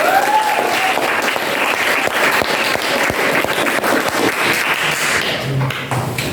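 A classroom of students claps for a student group, a sustained, fairly loud burst of applause with scattered sharp individual claps that tapers off near the end, no talking over it.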